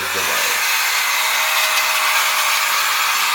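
Compressed air blasts dust out of computer fan grates in one steady, loud, hissing rush lasting a few seconds, close by.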